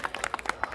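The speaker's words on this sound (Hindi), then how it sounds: "जोरदार तालियां हो जाए प्लीज इनके लिए" Scattered hand claps for the groom at a sangeet, a brief patter of a few people clapping unevenly, fairly faint and sparse, with no talk over it.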